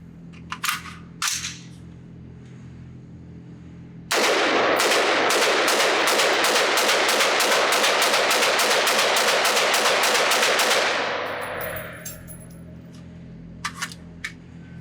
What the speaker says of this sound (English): put some more rounds through this rifle